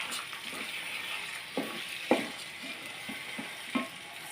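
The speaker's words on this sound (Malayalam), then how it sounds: "നന്നായിട്ട് നമുക്കൊന്ന് ചെറിയ രീതിയിലൊന്ന് വറുത്തെടുക്കാം," Soaked rice sizzles and fries in ghee in a pan over a low flame, a soft continuous crackle with a few spoon scrapes as it is stirred, heard close and alone.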